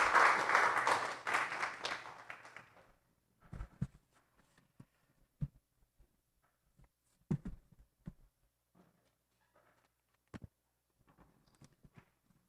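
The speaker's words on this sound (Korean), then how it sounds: "한번 박수해 주시면 감사하겠습니다." Audience applause at a book launch celebration, a burst of clapping that fades out within a few seconds, followed by scattered quiet knocks and shuffles.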